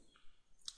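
A computer mouse double-clicks twice in quick succession, two short crisp clicks close together, quiet and near with no talking.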